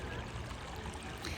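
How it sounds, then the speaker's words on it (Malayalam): Stream water runs between rocks at a natural waterfall in the UAE, a steady, soft rushing and trickling flow heard from nearby, faint and continuous with no voices. "പാറക്കെട്ടിൻ്റെ ഇടയിലൂടെയാണ് വെള്ളത്തിൻ്റെ വരവ്."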